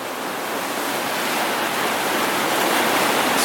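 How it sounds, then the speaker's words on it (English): Heavy water pours over Shrewsbury Weir after Storm Arwen, a dense, continuous roar that holds steady and broad throughout, with no voices over it. "that's a lot of water going down there"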